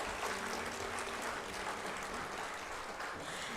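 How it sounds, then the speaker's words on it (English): Full, steady applause from a graduation ceremony audience for SVN's class of 2022, many hands clapping in a continuous, even roar that fills the hall throughout. "Let's give them a grand round of applause."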